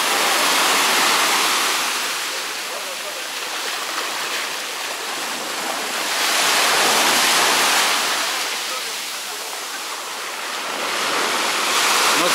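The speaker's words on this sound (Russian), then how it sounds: "Вот это волны." Sea waves crash and wash ashore at Cleopatra Beach in Alanya, Turkey, a loud, close broadband roar that swells and recedes in slow surges about every six seconds, with no voices.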